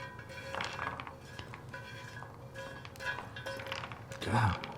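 Metal pans clank and clatter in a few scattered knocks, with a louder bang near the end, while people talk nearby.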